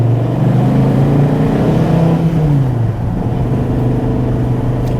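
A 2014 SRT Viper GTS V10 engine revs loudly and close, a steady deep rumble rising and falling in pitch as the throttle is rolled on and eased off, with no talk.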